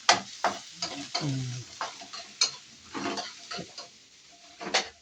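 Vegetables for lumpiang gulay are sautéed in a pan, quiet irregular stirring clatter and scraping with a soft sizzle, close by, with a faint voice briefly in the background.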